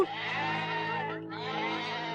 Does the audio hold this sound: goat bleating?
yes